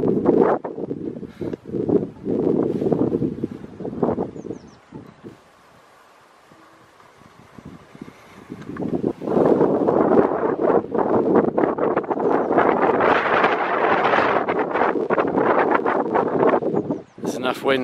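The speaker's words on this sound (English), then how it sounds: "Enough wind coming in to get it shifting round if it's set up right." Gusty wind buffets the microphone outdoors beside an experimental 12/24V wind turbine generator, loud rumbling gusts dropping to a near lull midway before surging back strongly, with a voice briefly at the start.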